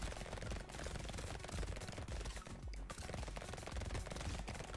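Rapid continuous SMG fire from several guns in the game Brotato, a dense rattling stream of shots throughout, steady and even.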